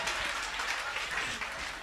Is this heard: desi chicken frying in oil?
no